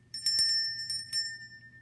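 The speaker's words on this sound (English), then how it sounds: "It's a bell." A small bell rings with a few quick, bright dings that leave a clear metallic tone hanging and fading, close and fairly soft.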